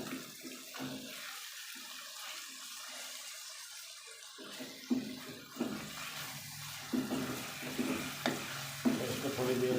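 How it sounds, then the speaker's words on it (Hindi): Tomatoes hit a frying pan for savoury vermicelli and are stirred in, a faint watery sizzle with soft, irregular scraping and clinks from the spoon, fairly quiet throughout. "अब हम इसमें डालेंगे टमाटर।"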